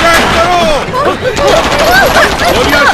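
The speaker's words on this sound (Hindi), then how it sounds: "गोलियां चलाओ।" Loud bursts of gunfire crack through tense shouting voices, with sharp reports breaking into the agitated talk.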